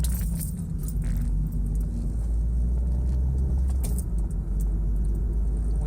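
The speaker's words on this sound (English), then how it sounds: "Let's go on the road and see if we finally can get this to actually start cruising the car" Mazda 626 with cruise control fitted from a Mazda 6 driving on the road, a steady low engine and road rumble filling the cabin throughout, with faint light rattles and clicks on top.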